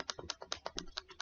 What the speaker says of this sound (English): I'm just using keypad and I'm pasting over and over again.